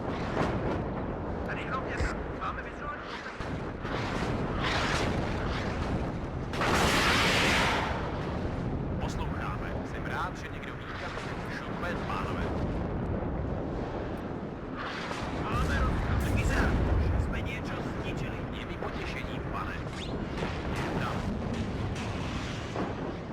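Artillery shelling in the WARNO strategy game, a run of deep booming impacts and rumbling blasts, two heavier surges standing out over a steady battlefield din, with a voice talking over it.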